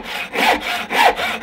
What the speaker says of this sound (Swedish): och så sågar man.